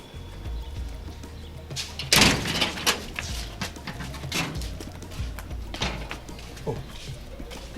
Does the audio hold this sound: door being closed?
yes